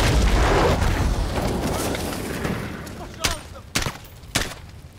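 A tower collapsing amid explosions in Call of Duty: Modern Warfare 2019, a long rolling rumble of falling debris and blasts followed by three sharp booming hits near the end, loud and close.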